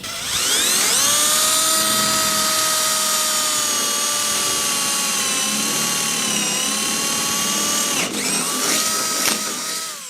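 A power drill bores steadily into the steel frame bar of an IBC tote, a loud, sustained high whine running nearly ten seconds with a brief dip and catch near the end as the bit breaks through.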